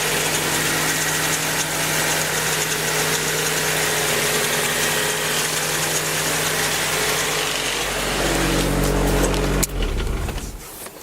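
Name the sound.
Nissan S14 car engine idling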